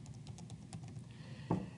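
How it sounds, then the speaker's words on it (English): Keys clatter on a computer keyboard in a quick, light run of taps, then a louder thump near the end. The typing is close and steady, with no voices. "if I keep typing,"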